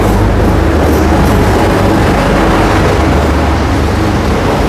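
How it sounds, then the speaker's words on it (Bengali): A DMU local train with ICF coaches at Mathabhanga station gives off a steady, loud rumble with a deep low drone throughout, no clear breaks or voices. "মাথাভাঙা স্টেশন থেকে আবার এই ডিএমইউ লোকাল করে যাব চ্যাংরাবান্ধা।"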